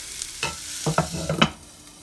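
Sausage frying in a covered pan over low heat gives a soft, steady sizzle broken by a few brief clinks and stirring scrapes, close and fairly quiet.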